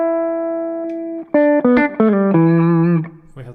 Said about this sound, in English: I'll stick the Coca Boost Reloaded on just so give you a bit more level